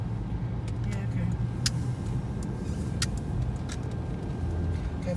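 A Fiat Punto Mk1 car driving at night, its steady engine and road rumble continuous throughout, with occasional light clicks and people talking inside the car.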